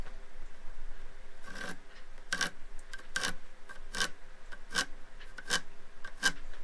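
An edge is chamfered by hand with a series of short rasping strokes, about seven, spaced under a second apart and fairly quiet over a steady background hum.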